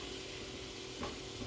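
Vegetables sear in a skillet during a quick keto meal: a faint, steady sizzle with a brief scrape of stirring near the end.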